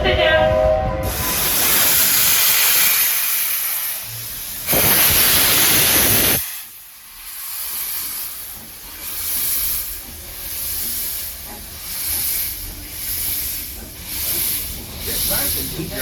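A steam locomotive of the Walt Disney World Railroad pulls out of Main Street Station, with loud hissing bursts of steam followed by a steady rhythmic chuffing that pulses every second or so.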